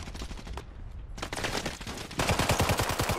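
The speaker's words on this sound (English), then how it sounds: "why are you shooting?" Automatic gunfire in the shooter game Warzone 3 (Modern Warfare III), with a fast rattling burst up front, a short lull, then denser, louder sustained firing toward the end, close and prominent.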